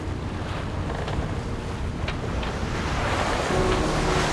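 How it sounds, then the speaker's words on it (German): Heavy Atlantic swell and gusting wind surround a sailboat on the open ocean, a steady broadband rush of churning water and wind buffeting the microphone, with a faint low hum underneath and no voices. "das ist richtig hoch hier mit den Wellen"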